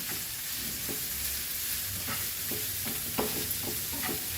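Onions sauté in a pan with a soft, steady sizzle, broken by scattered scrapes and clicks as they are stirred, all fairly quiet.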